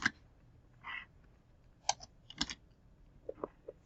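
Scattered keystrokes on a computer keyboard while entering text for a PDF sewing pattern, a handful of sharp, close clicks in uneven bursts separated by short pauses, quiet room, no talking.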